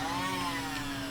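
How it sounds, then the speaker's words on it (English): A small child's toy vacuum cleaner whirs steadily and loudly with a high motor whine, running continuously without pause. "he got a little toy vacuum yesterday"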